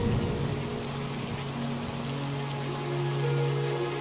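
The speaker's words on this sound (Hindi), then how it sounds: "तभी अचानक फिर से भयंकर बारिश शुरू हो जाती है।" Heavy rain pours down steadily over a flooded village, a dense, continuous hiss of falling water with no break or voices.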